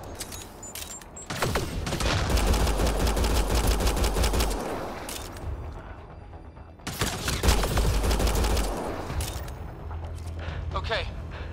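Sustained automatic gunfire in the video game Mass Effect: Andromeda, heard as dense rapid bursts with heavy low booms, pausing briefly before a second long barrage, with voices calling out over the shooting.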